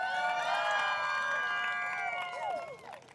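Wedding guests at a sangeet cheer and applaud the bride and groom, a loud crowd of whoops and excited voices over clapping that fades toward the end.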